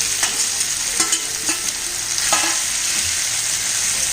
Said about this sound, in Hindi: इसलिए इसमें हम ऑयल थोड़ा ज़्यादा डाल रहे हैं, नहीं तो ये अच्छी तरह से फ्राई नहीं होंगी और आपस में सब चिपक जाएंगी